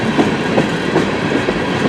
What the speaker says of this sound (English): That is a big train.